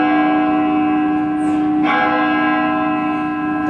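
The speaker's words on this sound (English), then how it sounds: "The bells are ringing, and it's time to move on." Church bells ring out in a steady, sustained peal during a stage performance, rich overlapping tones holding loud throughout, with one brief clash of a stronger stroke midway.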